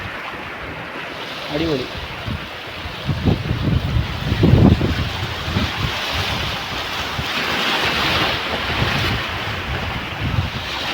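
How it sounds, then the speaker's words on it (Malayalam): Waves surge and wash up onto a clean beach near Ratnagiri, a broad steady roar with rising swells and wind buffeting the microphone, a brief voice heard over it. "തിരയടിച്ച് കയറാൻ തുടങ്ങി"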